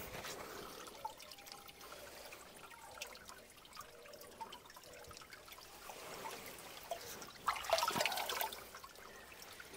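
Clear water trickling inside a grotto: a soft, continuous watery patter and dribble, faint and close, with a louder splashing burst near the end and no talk.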